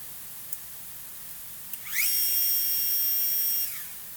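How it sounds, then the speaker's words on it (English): A lathe centre drilling, a brief rising whine that settles into a steady high-pitched tone for under two seconds, then stops, heard up close against a quiet background hum. "Okay, that's center drilling."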